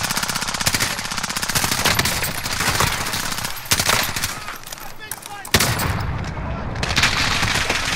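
Rapid, continuous automatic gunfire from a Call of Duty: Modern Warfare match, dense and loud throughout with brief breaks, under occasional voices.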